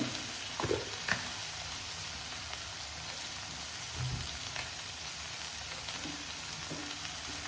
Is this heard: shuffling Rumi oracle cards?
no